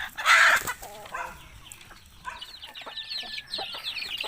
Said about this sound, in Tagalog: ito na yung sisiyo natin uh, mga katropa ito nga pala ay pure asil